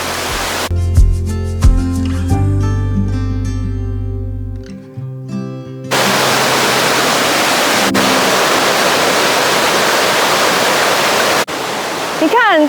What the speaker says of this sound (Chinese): 这里面沿途到处都有小小的瀑布，而且你可以很亲近它，看水一直流下来啊